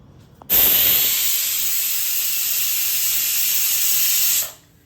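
Pressure cooker on a home stove cooking chicken heart biryani, releasing a loud sudden whistle with sharp steam hiss that holds steady for about four seconds, then cuts off abruptly.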